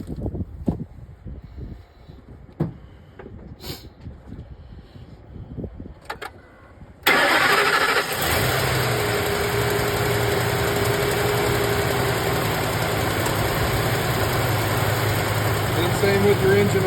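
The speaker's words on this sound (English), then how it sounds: "turn the truck on" A truck engine cranks and catches partway through, then settles into a steady, loud idle that runs on to the end, after quieter moments with a voice speaking.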